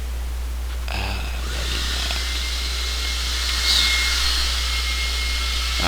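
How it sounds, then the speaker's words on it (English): A vacuum cleaner runs steadily in another room, a muffled, continuous whine with a constant low hum beneath, holding at an even level with no speech. "I need to shut my door because that vacuum"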